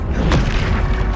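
A Confringo spell blast from a Hogwarts video game goes off as a single booming burst early on, with a dense rumbling roar sustained beneath it throughout.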